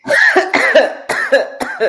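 A voice imitates coughing in a quick run of several rough, throaty bursts, close and loud.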